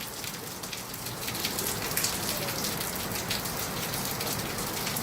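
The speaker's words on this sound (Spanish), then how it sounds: "Bueno chicos, chicos, está lloviendo súper" Heavy rain pours steadily during a storm, a dense, even hiss of drops hitting surfaces that holds close and loud throughout with no voices.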